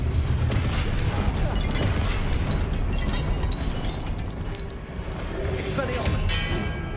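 Repeated blasting-spell explosions from a wizard video game, dense booming bursts that run almost continuously at high volume, with a voice talking over the din.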